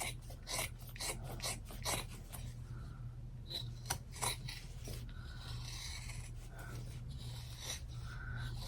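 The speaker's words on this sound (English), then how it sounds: "I'm just going to cut all this excess stuff off." Scissors snip repeatedly through excess fabric around an in-the-hoop embroidered clutch, giving crisp, close cuts in an uneven rhythm over a low steady hum.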